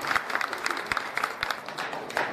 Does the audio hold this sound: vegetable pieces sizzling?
no